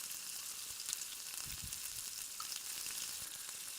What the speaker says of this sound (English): Let that cook out for a little bit, sweat out for a little bit, or saute as people call it.